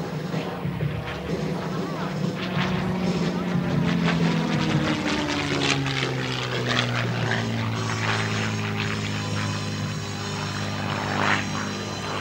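A CAF P-51D Mustang warbird makes a low pass at a regional air show. Its piston engine roars loud and steady, the pitch sliding as it sweeps past, and the drone fills the whole stretch.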